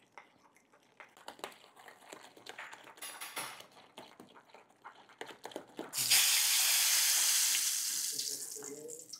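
Moong dal batter froths and sizzles, rising into a loud, steady hiss after a stretch of quieter clinks and scraping. The hiss then slowly fades.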